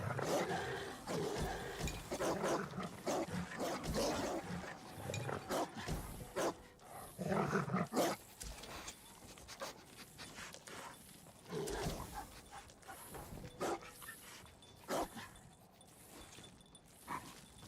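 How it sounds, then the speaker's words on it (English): Dog barking and growling in the video game Ghost of Tsushima, loud, busy bursts recurring across the stretch amid battle noise, with no talk over it. "Excuse me, puppy. Can't grab this banner with you there."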